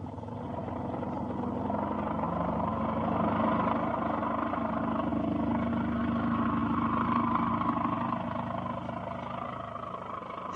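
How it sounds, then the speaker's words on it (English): A single-engine airplane flying, banking and climbing in a 1946 radio drama sound effect, a steady droning engine roar sustained and fairly loud for the whole stretch, with no voices. "What a plane. He's turning. What a flyer. Look at him bank."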